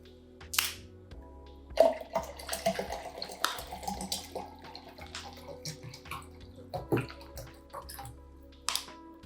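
Bottled drinking water is poured into the water tank of a Nespresso machine, a gurgling, splashing pour with changing pitch and small clunks of the bottle, heard close up with no talking.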